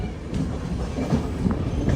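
Jan Shatabdi Express train running on rails near Karimganj Junction by the Bangladesh border, a steady close rumble of wheels on track with faint rhythmic clacks throughout.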